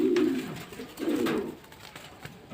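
Pigeons coo in two close, low rolling phrases, clear and alone with no talk, the second fading into quiet.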